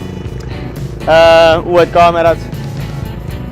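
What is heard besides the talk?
tractor at Photokina trade fair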